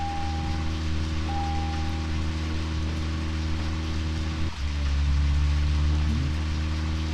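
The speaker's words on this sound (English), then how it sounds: "it's raining on the back windshield, but not the rest of the car" In a video game, steady hiss of rain pattering on a car's back windshield over a low engine hum, with a brief dip midway before the patter resumes.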